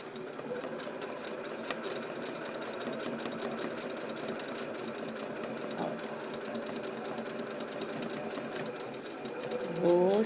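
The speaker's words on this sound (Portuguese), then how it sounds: "Uma delícia essa máquina de quilt, pra quiltar." A quilting machine stitches fabric while quilting tree shapes, giving a fast, even mechanical whirring and needle chatter that runs steadily throughout and rises briefly near the end.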